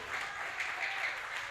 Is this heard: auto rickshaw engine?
no